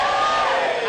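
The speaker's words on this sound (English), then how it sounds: "Give me a cheer if you're single" A comedy club audience cheers and whoops together in a loud, brief burst of crowd noise.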